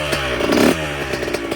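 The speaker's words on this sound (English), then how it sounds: "I just ripped a few on the 125. Now Jesse's going, just kick her" A 2004 Yamaha YZ125 two-stroke dirt bike being kick-started, with a short clattering burst as the engine catches, then a brief rough idle close by.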